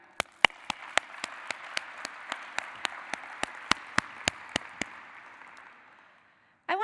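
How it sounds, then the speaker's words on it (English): An audience applauds at a keynote talk: broad, steady clapping with a few sharp, regularly spaced claps standing out on top. It runs for about five seconds, then fades out quickly into a brief silence. "please give yourself a round of applause for being here"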